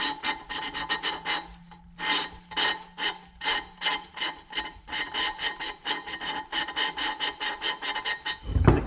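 A valve being spun and lapped against its seat in a Suzuki LTZ400 cylinder head rebuild gives a dry, gritty rasping scrape, repeated in quick rhythmic back-and-forth strokes at close range with no talking.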